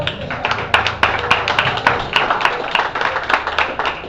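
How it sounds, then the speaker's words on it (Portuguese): Enthusiastic applause from a church congregation, steady rapid clapping with sharp individual claps standing out, continuing throughout. "Queria que você aplaudisse ao Senhor."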